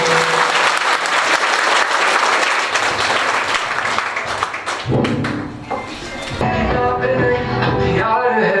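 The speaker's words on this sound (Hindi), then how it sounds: "एक बार तेजी से तालियों के साथ सर का स्वागत कीजिए।" A crowd applauds loudly to welcome a speaker, dense steady clapping that fades out, followed by music starting up.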